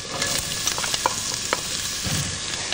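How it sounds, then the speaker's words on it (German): Spring onion, fennel and ginger sauté in butter in a large pan, a steady sizzle broken by scraping stirs and small clicks, close and alone. "Dann einen Löffel Anke in einer grossen Pfanne erhitzen und das Gemüse kurz andämpfen."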